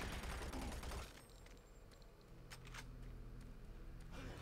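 Doom 3 gunfire: a short dense burst of shots up front, then scattered sharp cracks over a low steady game hum, fairly loud and with no talking.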